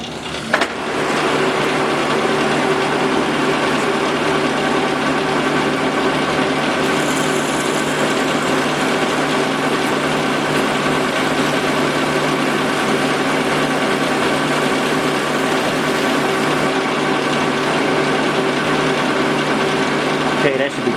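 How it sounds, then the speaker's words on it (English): Drilling a through hole for bushings in a Willys T90 column-shift transmission part, a steady machine whine and grinding that runs continuously for about twenty seconds at close range, with no pauses. "we're just going to start off by drilling the through hole."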